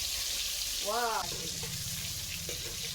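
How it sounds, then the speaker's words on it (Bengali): Round potato slices fry in hot oil, making a steady, close hiss and crackle throughout, with a brief voice heard near the start. "আলু ভাজা হচ্ছে গোল গোল করে চাক চাক করে"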